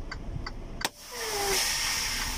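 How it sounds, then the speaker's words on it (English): Air brakes on a CR England tractor-trailer release with a sharp burst near the middle, then a steady hiss of escaping air that carries on to the end, loud and close, with no talk over it. "So it releases the air, so now the brakes are set."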